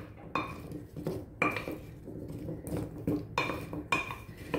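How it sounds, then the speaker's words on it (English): Butternut squash pieces being tossed in olive oil in a bowl, with repeated clattering scrapes and clinks of utensils against the dish in bursts, close and moderately loud. "I'm gonna go ahead and toss it in the olive oil first"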